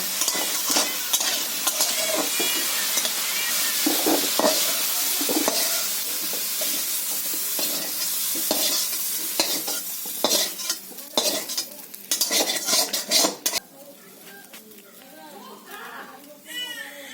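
Winter vegetables sizzle in hot oil in a kadai while a utensil scrapes and clatters against the pan, with a voice talking over the cooking.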